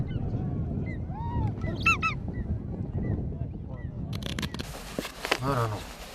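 Honking, goose-like bird calls ring out in the morning at a camp on a Mongolian horseback journey, a few clear calls around the two-second mark over a steady low rumble, with a brief burst of rustling noise near the end.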